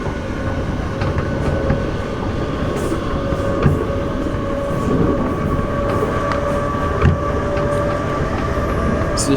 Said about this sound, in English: This train's passing through Stratford without stopping.